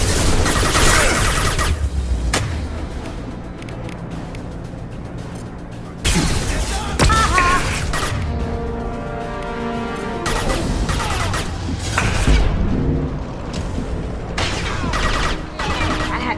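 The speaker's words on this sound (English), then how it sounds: "The Blue Suns and Vorcha are shooting anything that moves." Gunfire from Blue Suns mercenaries and Vorcha in the Mass Effect 2 video game, with dense bursts of shots, crashes and booms echoing throughout.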